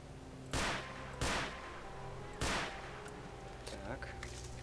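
Three sharp pistol shots ring out at uneven intervals in the video game STALKER: Shadow of Chernobyl, each with a short ringing tail, over a steady background hum.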